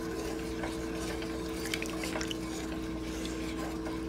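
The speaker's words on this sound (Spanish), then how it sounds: "Movemos y movemos, revolvemos, revolvemos." A wooden spoon stirs thickening natilla, a Colombian Christmas custard, in a pot over medium heat, giving soft, continuous scraping and sloshing with faint clinks under a steady low background hum.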